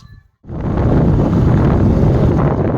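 After a brief quiet moment, a loud gust of wind slams into the microphone and keeps roaring steadily.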